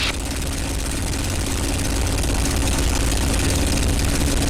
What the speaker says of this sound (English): Now the right side only. A little more grumbly, but she's fine.